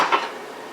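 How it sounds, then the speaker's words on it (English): Metal kitchen utensils clink together as a spatula is picked out of the pile, two quick close clatters followed by a fading ring. "Let me just get a spatula."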